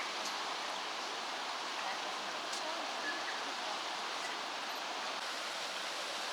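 The Makaroa River flowing through forest beside a walking track, a steady, broad rushing of water that holds evenly from start to finish at moderate distance with no talk.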